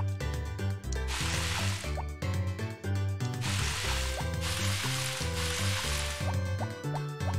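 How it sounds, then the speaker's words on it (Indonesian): Crops are watered in a Harvest Moon video game: three hissing, splashy watering bursts rise over steady background game music. "Siram dulu, nanti lupa."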